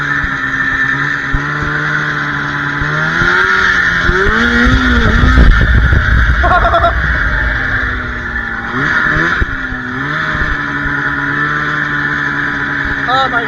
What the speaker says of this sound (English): I've never had this much fun on a snowmobile yet